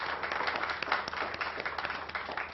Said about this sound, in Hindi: भाई जोरदार तालियां बजाएं छाबड़ा जी और डॉक्टर साहब के लिए